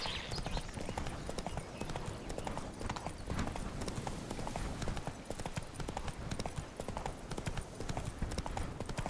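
In The Witcher 3, the horse Roach gallops, hooves pounding in a fast, steady clip-clop rhythm, close and loud throughout.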